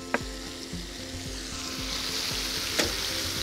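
Chopped garlic fries in a pan, a steady close sizzle with a few light clicks of stirring over it, and no one speaks.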